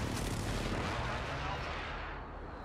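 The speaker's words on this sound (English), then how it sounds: "Enemy precision airstrike." A precision airstrike in a Battlefield game erupts in heavy, booming explosions that roll together into a loud, sustained rumble before gradually fading.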